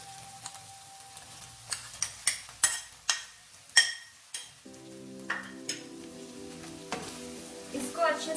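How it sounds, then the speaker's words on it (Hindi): A spoon stirring paneer into capsicum masala in a pan, with a series of sharp scraping clinks against the metal, then a soft sizzle with faint tonal hum underneath. "इसको अच्छे से मिक्स कर लेंगे।"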